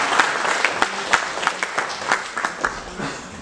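Sparse applause from a small audience after a talk's question-and-answer session, individual claps distinct and uneven, close by and fairly loud.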